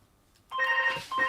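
A telephone rings in two short electronic bursts, loud and close after a moment of near silence, a bright warbling tone cutting off briefly before sounding again.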